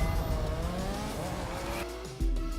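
A car drifting in The Crew 2 racing game, its engine droning loudly under a continuous, rising tire squeal, with a sudden deep thump and engine surge near the end.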